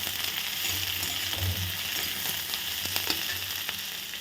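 Onion and capsicum fry in a pan, the onion just turning light brown, giving a continuous close sizzle with occasional scraping and stirring clicks and no talk.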